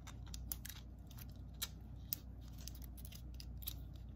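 A zipper on a toy package is pulled open in short, scratchy bursts with small ticking clicks, quiet and close, with no talk over it.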